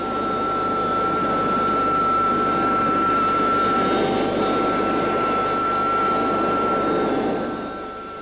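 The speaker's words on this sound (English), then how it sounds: "Taxiing out, this 8B shows off its new bulged high-visibility canopy and retracted flight refueling probe above the inlet duct." A Harrier II AV-8B jet taxiing out gives a steady, loud turbine whine with a constant high tone over broadband rumble, sustained throughout and fading slightly at the end.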